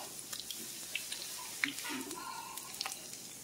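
Amish onion fritters sizzle faintly in hot grease, with soft crackles and pops scattered over a quiet background.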